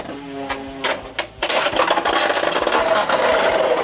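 A Beyblade X top is ripped from its launcher with a quick ratcheting zip, then spins in a plastic stadium with a steady grinding rattle and scraping.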